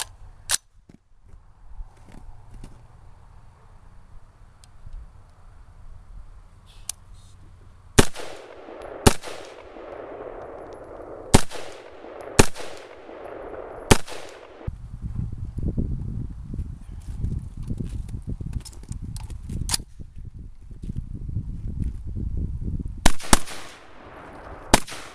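A Smith & Wesson M&P 15 rifle fired at an outdoor shooting range: sharp single gunshots spaced a second or more apart, some in quick pairs, each cracking loud and close over a low background rumble, with no talking.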